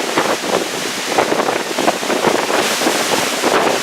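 Choppy ocean waves seen from the bow of the Allure of the Seas cruise ship, a steady rushing wash of water mixed with heavy wind buffeting the microphone.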